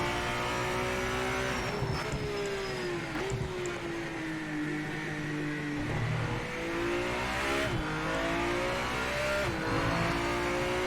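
A race car in the Project Motor Racing video game drives alone with a loud, close engine that revs up and drops back through repeated gear shifts and braking, with no talk.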